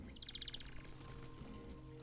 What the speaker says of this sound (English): Bye, birds.